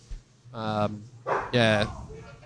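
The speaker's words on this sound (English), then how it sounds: "we have an unhappy dog" An unhappy dog indoors gives two short, strained barks or yelps close to the microphone, each lasting under a second, with a quiet room between them.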